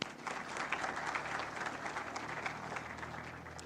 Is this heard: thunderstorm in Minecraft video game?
no